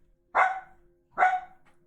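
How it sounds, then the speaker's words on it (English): A dog barks twice, short sharp barks about a second apart, fairly close and clear against a quiet room. "that dog"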